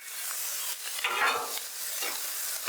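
Pork fried rice sizzles and is stirred on a Blackstone flattop griddle, a soft continuous hiss with faint scraping and turning sounds, fairly quiet and close, no voices.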